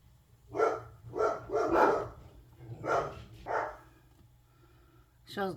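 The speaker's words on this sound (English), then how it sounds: "Daisy was barking at somebody walking down the pathway here." A dog barks five times in an irregular series, fairly close, followed by a pause and a short high yelp.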